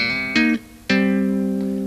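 A tapped bass phrase played with thumb slaps and double-stop hammer-ons, two sharp percussive attacks followed by ringing sustained notes, close and clear with no talking.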